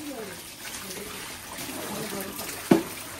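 Water pours out of a container in a Bangladeshi village household, a brief splashing trickle with a sharp knock near the end, while people talk over it.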